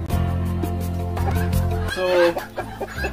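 Chickens in a Kenyan village cluck near the sleeping coop, with a few scattered calls under someone speaking briefly.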